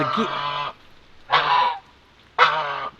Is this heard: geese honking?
yes